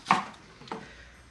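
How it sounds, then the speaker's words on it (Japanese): A knife cutting the ends off a rolled, squeezed napa cabbage for a crab hotpot, two soft separate chops about half a second apart, heard up close and fairly quiet. "こうお店で使う場合は端っこを落とすんですよね"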